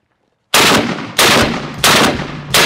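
A heavy gun fires four loud, booming shots in a slow, even rhythm, each blast close and ringing out briefly after near silence at the start.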